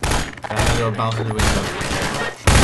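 Rapid, loud bursts of gunfire from a gun in the video game Half-Life 2, close and harsh, with a brief pause before a final burst.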